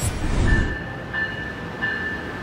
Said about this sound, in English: A MARC train comes at 7:20.